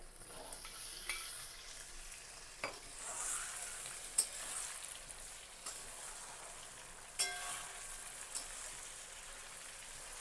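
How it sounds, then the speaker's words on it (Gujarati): Onions and tomatoes fry quietly in a pan, a soft steady sizzle broken by occasional stirring scrapes and clinks, with no talk. "હવે આપણે આને મિક્સ કરી થોડી વાર માટે શેકાવા દઈશું"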